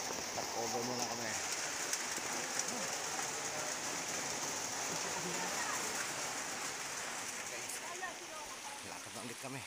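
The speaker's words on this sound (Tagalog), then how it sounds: "Nabutan kami ng ulan." Steady rain pours down in a constant hiss on a mountain trail in Zamboanga City, Philippines, with faint voices mixed in beneath it.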